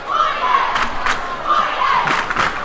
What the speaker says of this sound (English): before a capacity crowd here in the middle school gymnasium